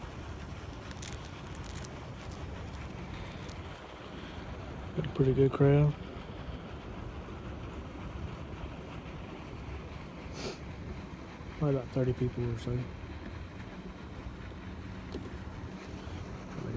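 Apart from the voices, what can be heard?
wind on a lake while fishing from the bank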